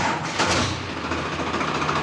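A tractor engine running steadily at close range during an accelerator check, a continuous low rumbling drone with no voices.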